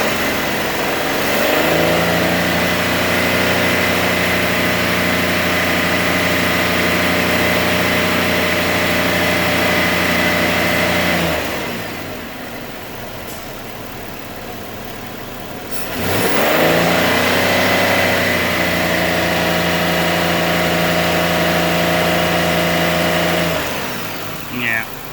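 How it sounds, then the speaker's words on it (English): A 2003 Chevy Impala with the 3.8L engine is held at raised RPM, a steady loud drone that drops back to idle briefly in the middle before revving up and holding again; a voice speaks over it. "So let me bring the RPMs up."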